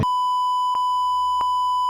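A steady censor bleep holds a single tone across the whole clip, loud and continuous, with two brief louder pulses partway through, in a horror-themed podcast conversation; no one speaks.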